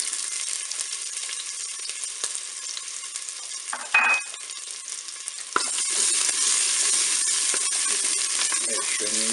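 Shallot and garlic fry in hot olive oil inside a Cookeo pot. A steady bright sizzle is broken by a clatter and a sharp knock. After that, louder, fuller crackling continues without voices.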